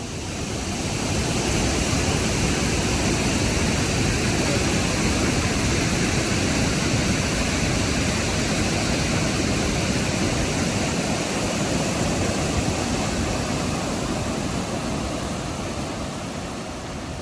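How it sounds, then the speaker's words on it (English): A steady, loud roar of rushing, falling water from the Upper Falls at Yellowstone National Park, about 109 feet high, continuous and unbroken throughout, with no voices. "the waterfall is pretty amazing"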